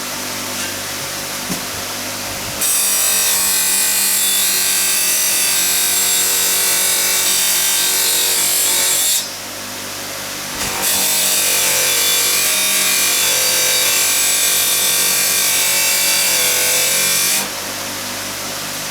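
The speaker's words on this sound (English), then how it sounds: "Right, buffing wheel set up, ready to go," Buffing wheel polishing vintage Tilley lamp X246 parts, a loud steady high-pitched whir and rubbing hiss in two long passes with a short pause between them; no talking.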